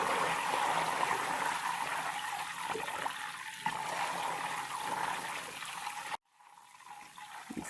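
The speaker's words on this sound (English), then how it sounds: "we still have a little bit more of those milk solids kind of bubbling up there" Homemade ghee simmering in a pot, the milk solids bubbling and browning, gives a steady close crackling sizzle and fizz that runs on evenly, then cuts off abruptly near the end and returns more faintly.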